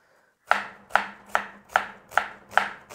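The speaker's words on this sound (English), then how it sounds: "for slicing these onions up, you just gotta cut them in half" A knife chops onions on a cutting board for vegan cornbread: six crisp, evenly spaced strikes about half a second apart, close and loud, each with a short woody thud and ring, no voices.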